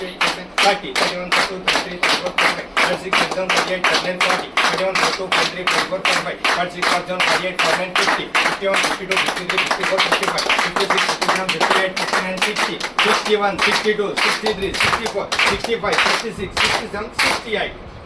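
A group claps in steady unison at a 68th birthday celebration held by a service committee, a long run of evenly spaced, loud, crisp claps counted out together, with voices murmuring faintly underneath.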